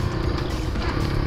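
A Monarch Axis 125 motorcycle engine drones loudly and close while engine braking on a downshift, a steady rough rumble with no pause.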